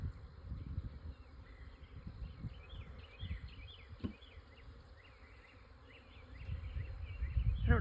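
Honey bees buzz steadily inside a nuc hive, a close, continuous drone with scattered higher buzzes, rising louder toward the end.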